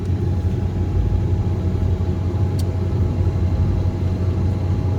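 A boat's inboard engine runs at a steady idle with a constant low rumble and mechanical hum, close and loud throughout, no voices over it.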